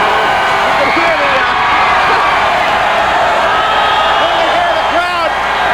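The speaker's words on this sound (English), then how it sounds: "Look at the crowd." A large stadium crowd waiting for the Orioles in 1983 fills the air with a dense, steady roar of cheering, scattered whoops and shouts rising above the continuous hubbub.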